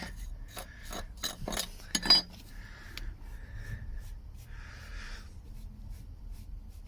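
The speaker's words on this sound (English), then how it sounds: "I'll take my jointing tool again and just run over that, scrape off any excess that's stuck to the wall." A jointing tool scraping excess mortar along paving slabs against a wall, giving short rasping strokes, quick and close at first, then softer scrapes with pauses, no talk.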